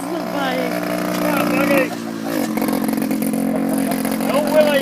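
Mini motorcycle engine buzzing past, a mid-pitched rasp rising and falling as it rides by, heard under people talking and calling out.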